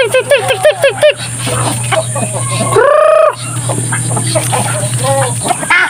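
Chickens clucking and calling from a coop on a small farm, a rapid run of close, rhythmic clucks followed by a louder drawn-out crow-like call, then scattered softer clucks over a steady background hum.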